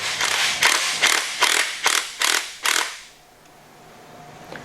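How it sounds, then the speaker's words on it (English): Tool working an Allen bolt at the bottom of a motorcycle fork tube on a Legend Axeo FLH front shock, with about seven quick, loud rhythmic ratcheting bursts up close, then near silence. "That bottom Allen bolt that you took out earlier to drain the oil,"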